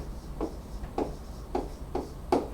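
Chalk or marker strokes on a board during a Korean high-school math lesson: five short scratchy bursts at an even pace, close and fairly quiet, with no talking.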